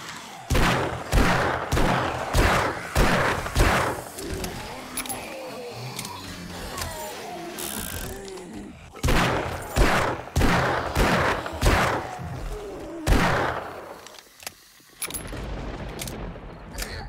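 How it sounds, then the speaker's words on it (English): Repeated Magnum shots in the survival game 7 Days to Die, fired in rapid bursts of loud, close cracks with short pauses between volleys, a faint voice occasionally under the shots. "Got 157 more rounds for the Magnum here."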